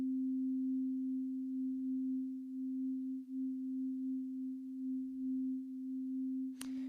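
Mono synth playing one sustained pure tone through a basic reverb that is slowly brought in, a steady, smooth hum that stays level throughout, ending with a brief sharp click.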